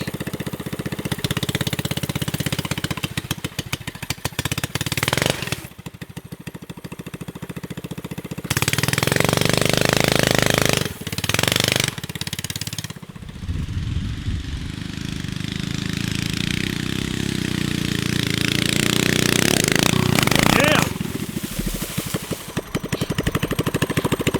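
An off-road go-kart engine revs and strains its clutch, rough mid-pitched engine roars rising and dropping in uneven bursts, loud and close, with a gap of quieter idling between surges.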